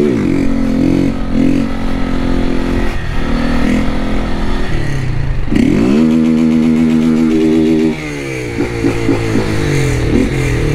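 A 2023 Honda Start 160 motorcycle fitted with an aftermarket exhaust revs loudly and up close, its harmonic engine note climbing and falling through repeated throttle blips with no talking over it.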